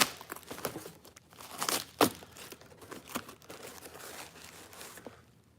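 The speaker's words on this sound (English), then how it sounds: "All kinds of packing stuff. Packing material." Hands rummaging through crinkly packing material in a mailed toy box, continuous close rustling and crackling with a sharper crunch partway through, fading toward the end.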